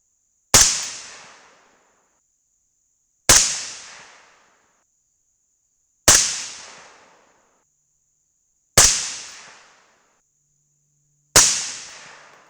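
Five sharp .223 rifle shots using BR4 primers crack out one by one at steady intervals of about three seconds, each a loud, abrupt report with a short decaying echo and silence between.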